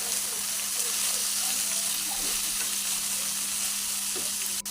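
Mutton sears and gets stirred in a pan in a constant, close sizzle with a steady hiss, broken by soft stirring scrapes and the occasional click.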